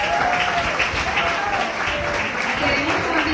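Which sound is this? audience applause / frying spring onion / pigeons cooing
audience applause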